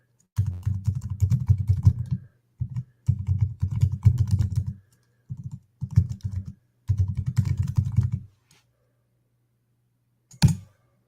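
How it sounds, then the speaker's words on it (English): Typing on a computer keyboard, several quick bursts of close, crisp key clicks separated by short pauses, ending with a single louder tap after a silence. "I'm going to type it into the"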